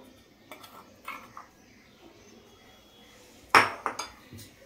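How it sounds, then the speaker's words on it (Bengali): Semolina and flour mixed together in a bowl for pancake batter, with sparse close clinks and scrapes of a utensil against the bowl, two louder knocks near the end, over a quiet background. "এটা একসঙ্গে আমি একটু মিশিয়ে দিচ্ছি।"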